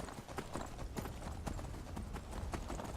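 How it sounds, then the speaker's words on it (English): Horse hooves gallop in Skyrim, a quick, steady clip-clop rhythm thudding throughout, fairly loud over ambient game sound with no talking. "Faster, steed! Faster!"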